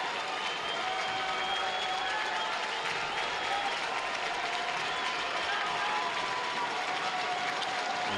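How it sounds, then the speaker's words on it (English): Soccer supporters in a stadium applaud coach Eric Quill as he walks past them during a New Mexico United versus San Antonio FC match, a steady, distant wash of clapping and crowd noise with no break. "Eric Quill, you can hear the applause as he walks by the supporters."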